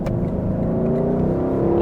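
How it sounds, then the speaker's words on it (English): A 2024 Lexus LC 500 engine revs with the convertible roof down, a loud, sustained near growl that builds slightly, and no one talks over it. "I should hear this engine noise all the time with the roof down"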